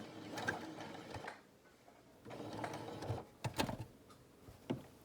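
A sewing machine stitches the corner of a cloth face mask through two fabric layers, running in short whirring bursts with brief pauses and small clicks between them, fairly quiet and with no talking.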